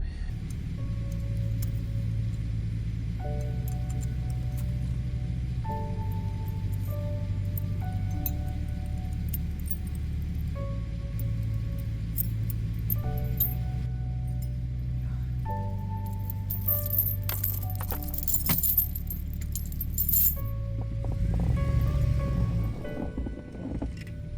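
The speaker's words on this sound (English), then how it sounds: "I probably just look like a fool riding around with these chains on, so they make a big racket" Snow chains on the tires of a 2WD van rattle and clatter steadily over a low road rumble while driving on a snowy highway, forming a continuous jangling racket with a few sharper clanks near the end.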